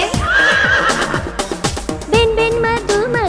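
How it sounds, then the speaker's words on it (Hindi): A horse neighs and whinnies in a Hindi children's song, a loud, high, wavering cry rising and falling twice, backed by a bouncy musical accompaniment with hoof-like clip-clop beats. "हिन हिन करता घोड़ा भागे"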